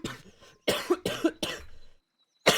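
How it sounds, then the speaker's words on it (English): A short burst of harsh coughs, three or four in quick succession, close and fairly loud, with a brief pause before one more cough at the end. "I am coughing up a little bit"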